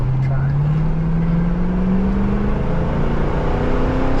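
A 1974 Ford Maverick with a three-speed transmission accelerating loudly and close, its engine note climbing steadily in pitch throughout.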